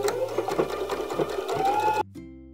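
A sewing machine back stitches a beanie seam, its motor whirring in quick bursts with a rhythmic needle chatter before stopping abruptly, leaving a faint hum.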